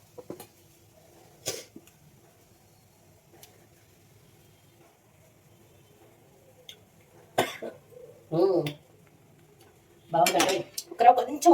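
A metal spoon scraping and clinking in a pot while dal is mixed, a few sparse clatters separated by near-silence, with a cough-like sound partway through.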